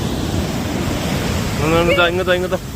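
Sea surf breaking on the shore at Vizhinjam, a steady loud wash of rushing water, with a voice speaking over it near the end.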